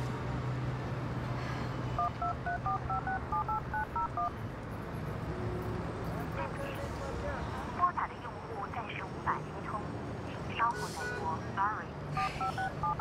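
Telephone keypad dialing tones in two short runs of rapid beeps, heard over steady background noise with voices talking.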